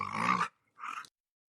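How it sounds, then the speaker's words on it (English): Dog growling on a listener's recorded voice message, two short rough bursts, the first longer and louder, the second fainter and briefer, with silence between them and no talk. "Somebody's dog, I think, got on there."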